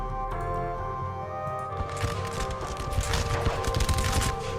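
A musket volley crackles out from a Renaissance-era battle at Kokenhausen in a wargame, starting as a low rumble and then bursting into a dense, rolling spread of shots and booms.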